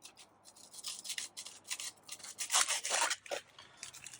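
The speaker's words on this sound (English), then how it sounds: "we're going to use this serrated blade on a penknife. And all you need to do is just cut this off." A serrated penknife blade saws through set pest-repellent foam in quick rasping back-and-forth strokes, close and crisp, swelling louder midway, with no talk.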